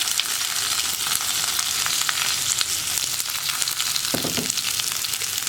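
Urad dal, chopped onion and curry leaves sizzle in hot oil, a close, steady crackling fry with occasional scrapes of a spoon stirring the pan.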